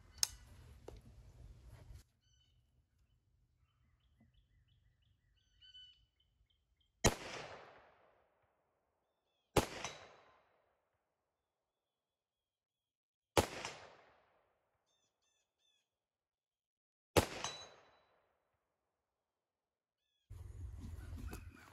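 450 Bushmaster rifle shots fired from a shooting bench outdoors, four loud separate cracks spaced a few seconds apart, each with a short fading echo, between quieter handling noise.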